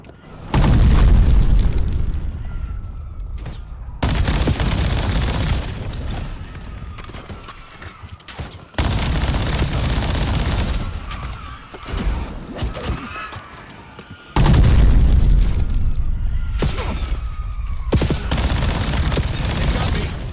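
Heavy gunfire and booming explosions from a video game firefight, loud and sustained in several long bursts separated by brief lulls, with a voice speaking briefly underneath.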